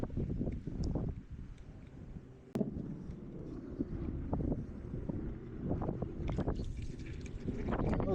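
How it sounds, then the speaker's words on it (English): Gusty wind buffets the microphone on open water from a kayak in early spring, a steady low roar with louder gusts throughout and a sharp knock partway through. "every time we get on the kayak, it's windy"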